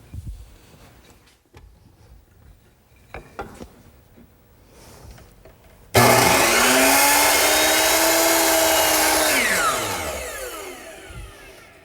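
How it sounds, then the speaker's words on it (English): Hand saw cutting wood in a miter box for a standing mirror frame: steady, loud back-and-forth sawing that starts abruptly and continues for several seconds before tapering off, after a stretch of quiet shop noises. "I'll make it at the miter box"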